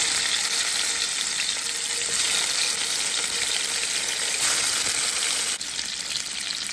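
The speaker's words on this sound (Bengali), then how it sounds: "একইভাবে আমি বাকি সব মাছগুলি একের পর এক ভেজে নেব।" Fish fries in hot oil, a steady loud sizzle and crackle that continues throughout with a few brief clinks of utensils.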